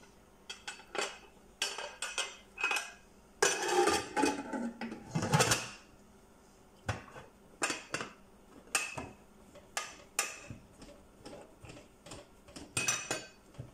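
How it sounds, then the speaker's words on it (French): A pressure cooker lid is fitted and closed on a pot of beef and carrots: a close series of metallic clanks, clicks and rattles in irregular bursts, with a denser scraping clatter early on. "je vais pouvoir fermer la cocotte minute"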